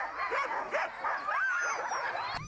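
Husky sled dogs of a tourist sledding company in Finnish Lapland bark, yip and whimper in a busy overlapping chorus, close and fairly loud, with no talk.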